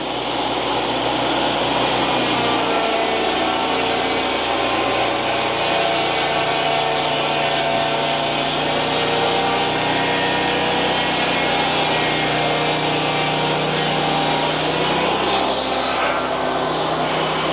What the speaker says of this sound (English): And raise his mill up 3/4 inch. And in doing so, he'll get his bevel cut then.